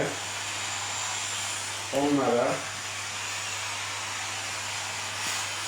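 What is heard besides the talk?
hot steam cleaner sterilizing mattresses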